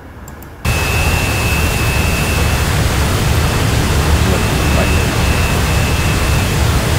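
Roaring Su-33 jet engine during a carrier takeoff in the DCS flight simulator, a loud, steady broadband rush that kicks in abruptly after a short quiet moment and holds with a faint thin whine on top.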